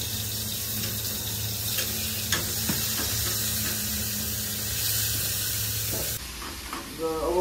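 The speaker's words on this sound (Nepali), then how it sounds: "यसलाई पहिला जिरा हाल्ने अनि तेल हाल्ने" Cumin seeds and oil sizzle in a frying pan as a home cook starts tomato chutney for sattu paratha, a steady close hiss over continuous background noise with a brief clatter near the end.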